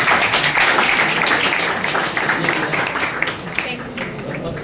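A school audience at a road safety awareness session claps steadily and densely, the applause fading slightly toward the end, with a voice talking over it.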